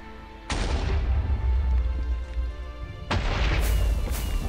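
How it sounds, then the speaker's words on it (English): Fireworks from the KingConquest video game marking a captured outpost: two loud, sudden booming bursts a few seconds apart, each followed by sustained crackling and rumble that fills the clip. "we also get some fireworks to celebrate the epic conquest"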